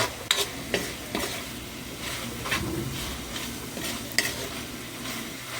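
Kangkong (water spinach) sizzles in a hot pan for adobo while a utensil stirs and scrapes it, with a steady frying hiss and a series of irregular clacking strokes against the pan.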